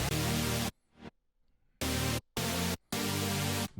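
A dry, unprocessed synth chord played in four short stabs, each cutting off sharply into silence, with no reverb tail.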